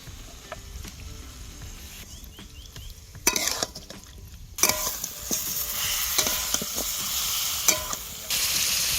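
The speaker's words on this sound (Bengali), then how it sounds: "এবার আমি চিকেন দিয়ে দেবো।" Chicken pieces tipped into hot, reddish cooked-down masala sizzle steadily, with a spoon scraping and clattering against the pan in bursts; the frying grows louder and fuller partway through and holds close and continuous.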